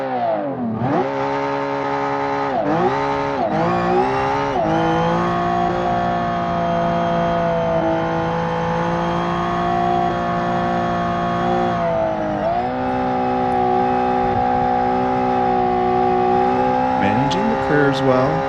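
A race car in the game BeamNG accelerates hard, its loud engine whine climbing steadily through the gears with brief dips at each shift, close up and continuous.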